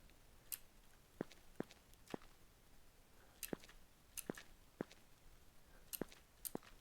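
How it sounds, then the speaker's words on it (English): Footsteps on stone in the Minetest video game, a series of light, crisp clicking steps spaced irregularly at moderate volume over a quiet background, with no talking. "I like the footstep sounds on stone."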